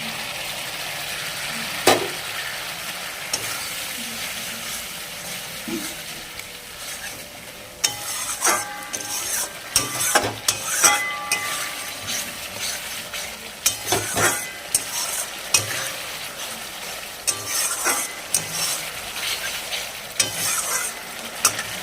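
A masala paste of spices, oil and chopped coriander is stirred and sautéed in a pan, with a continuous sizzle and repeated scraping strokes of the spatula, close and fairly loud, and no voices.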